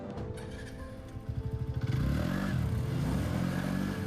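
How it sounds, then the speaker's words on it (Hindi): Exhaust of a 125cc scooter, Hero Xoom 125 or TVS NTORQ 125, puttering in rapid pulses, then swelling into a loud, steady rev that continues to the end. "दोनों का जो एग्जॉस्ट साउंड है वो बहुत ज़्यादा है"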